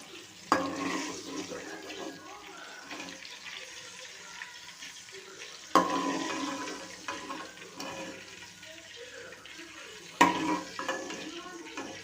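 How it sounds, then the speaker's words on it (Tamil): Sliced eggplant (brinjal) frying in a pan of oil for an oil-brinjal curry, a steady close sizzle with a few sharp clanks from a spoon stirring and scraping the pan at intervals. "இப்போ கத்திரிக்காய் நல்லா வதங்கணும் இந்த எண்ணெயிலேயே"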